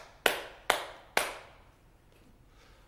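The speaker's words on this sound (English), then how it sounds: "Would you mind clapping" Three sharp hand claps from one person, evenly spaced about half a second apart, close and crisp, each ringing briefly into a quiet room before fading to silence.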